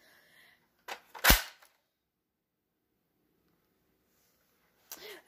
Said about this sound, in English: You can hear Camden cocking a bunch of guns in the background.